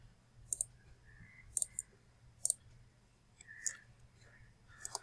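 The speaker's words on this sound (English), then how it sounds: "Right click" A computer mouse clicks crisply at close range in short pairs and singles spaced about a second apart, with faint keyboard-like taps and quiet room noise between.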